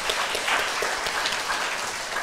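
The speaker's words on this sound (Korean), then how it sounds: "믿음대로 되게 하시는 하나님께 영광의 박수 올려드리겠습니다." A church congregation applauds during a Sunday morning worship service, dense steady clapping from many hands filling the room, fairly loud and continuous, with no voices over it.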